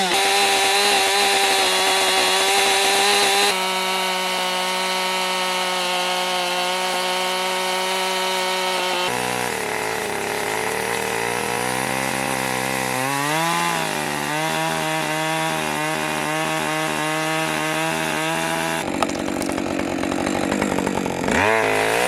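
A chainsaw cuts into a round log to shape a tenon for a barn build. The engine runs loud and steady the whole time, its pitch rising and falling as the chain bites and eases through the wood, with no talking.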